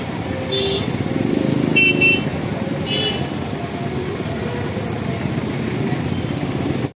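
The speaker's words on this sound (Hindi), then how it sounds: "और मैं ट्रैफिक दिखाती हूँ आपको कितना है।" Busy Indian road traffic outside an ATM during Durga Navami shopping, with a steady roar of passing cars and motorcycles, a few short horn honks early on, and a continuous engine rumble throughout.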